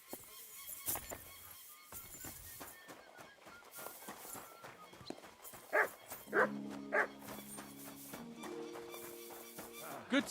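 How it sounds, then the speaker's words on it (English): A dog in the video game Kingdom Come Deliverance II barks in short, sharp yaps spread across the clip, with louder clustered barks toward the end over a quiet medieval background and occasional tonal sounds. "You silly doggy."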